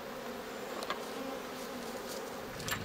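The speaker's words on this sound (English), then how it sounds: "Bees in general are just gentle creatures" Honey bees buzz around their hives outdoors in a faint, steady drone, with a few individual insects passing slightly closer.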